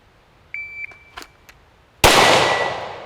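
Shots from a 10mm semi-automatic handgun strike steel targets outdoors: a few faint ringing pings and small knocks, then one loud, sharp metallic clang with a long bright ring that slowly fades.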